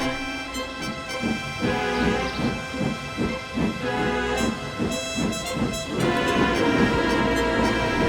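Oliver the small tank engine pulling his unusual special train along a branch line, steady chuffing and rumbling rail noise with a whistle-like tonal layer and music-like harmonics, loud and continuous throughout.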